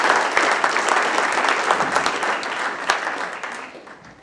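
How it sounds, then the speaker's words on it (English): Rotary club audience applauding to welcome a speaker, a dense, steady burst of clapping from many hands that holds strong and then gradually fades toward the end. "please join me in giving Jay a warm Rotary welcome."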